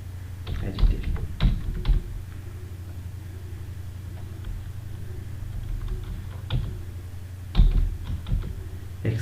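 Plot labels being typed on a computer keyboard in MATLAB: bursts of quick close key clicks in short clusters, separated by pauses, over a low steady hum.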